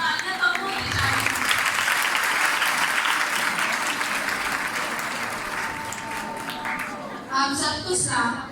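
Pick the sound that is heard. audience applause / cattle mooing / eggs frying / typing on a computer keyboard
audience applause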